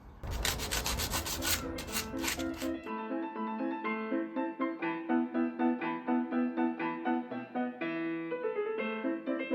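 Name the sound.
cleaning dust from dowel joints of a wooden dining chair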